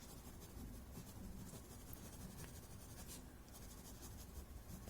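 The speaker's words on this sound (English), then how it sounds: "and then the normal, my graphite pencil" Graphite pencil shading on paper for a tangle drawing, a steady soft scratchy rasp continuing throughout, close and quiet with no talk.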